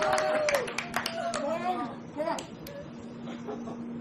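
Family members applauding indoors, scattered claps mixed with excited children's voices and talk, clapping sharp at first then thinning out beneath the chatter.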